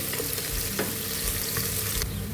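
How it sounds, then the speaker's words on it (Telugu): Sliced onions fry in hot oil for chicken biryani, a continuous close sizzle with a few scraping stirs of a spoon in the pan. "ఉల్లిపాయలను ఒకసారి కలుపుకొని మంచి గోల్డెన్ బ్రౌన్ కలర్ వచ్చేంత వరకు ఫ్రై చేసుకోవాలి"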